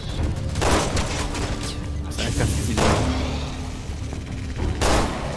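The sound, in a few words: gunshot in a video game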